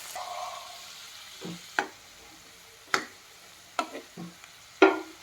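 A spoon stirs green tomatoes frying in oil in a home kitchen, with a faint sizzle underneath and several sharp scraping knocks against the pan spaced irregularly, close and fairly quiet.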